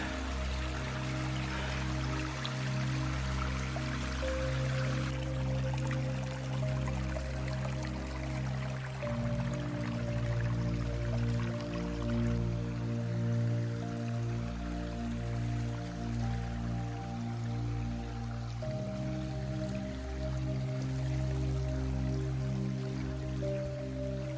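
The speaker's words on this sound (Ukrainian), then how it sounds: "бачите, скільки води з гори лється" Heavy rainwater rushes down a normally dry mountain trail after days of storms, a steady, quiet, continuous pouring and gurgling flow with no voices.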